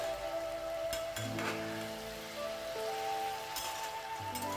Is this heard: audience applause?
no